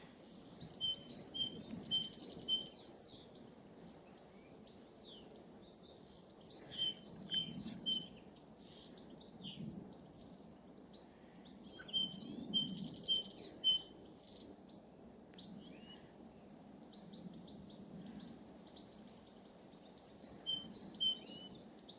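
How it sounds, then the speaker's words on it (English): A great tit sings on a nature walk near oak trees, its bright repeated two-note phrases coming in four short bursts of about two seconds each over a soft outdoor hum, with occasional faint chirps in between. "That's a great tit."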